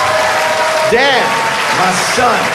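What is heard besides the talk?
audience applause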